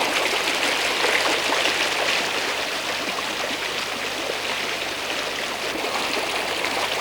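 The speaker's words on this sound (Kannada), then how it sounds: "ಸೀತಾ ನದಿ ಇಲ್ಲಿ ಮಂದ ಗಮನೆಯಂತೆ ಹರಿಯುತ್ತಾ ಜುಳು ಜುಳು ಶಬ್ದ ಮಾಡುತ್ತಾ ಮುಂದೆ ಸಾಗುತ್ತಾಳೆ" The Sita river in Udupi flowing gently, a steady, even gurgling rush of water close by that holds at the same level throughout with no voices.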